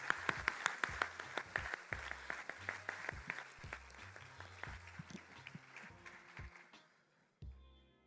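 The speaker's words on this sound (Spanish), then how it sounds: "Un fuerte aplauso, mucho más fuerte," An audience at a motivational masterclass claps loudly and steadily, with many sharp individual claps standing out near the front before the applause thins out and fades away.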